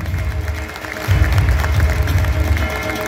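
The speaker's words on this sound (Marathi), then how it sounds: "टाळ्या।" Audience applause at an honouring ceremony where a couple is presented with bouquets, a steady wash of clapping from a crowd that swells louder after the first second and holds to the end.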